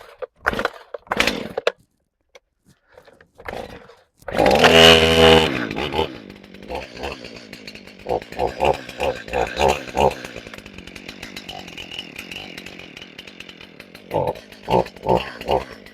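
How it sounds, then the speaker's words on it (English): Chainsaw pulled to a start, then roaring and bogging in bursts while bucking a felled tree into firewood lengths on a cold day outdoors, with quieter idle gaps between cuts. "So I'm gonna buck a little bit off of this tree, and we're gonna use it for firewood"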